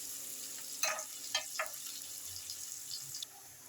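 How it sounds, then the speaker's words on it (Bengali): Onions fry in a pan, a soft steady sizzle at close range broken by a few brief louder spatters, with no talk. "এবার পেঁয়াজগুলো দিয়ে দিচ্ছি। পেঁয়াজগুলো হালকা করে ভেজে নেব।"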